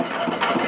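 A small 5 hp Majestic antique stationary engine chugs steadily up close, a dense, rough running rumble with a faint rhythmic knock throughout the short moment.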